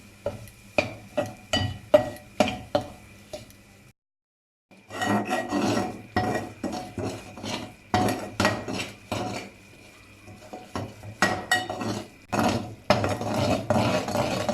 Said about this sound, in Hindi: सूजी को अच्छे तरीके से 5 से 6 मिनट के लिए भून लेंगे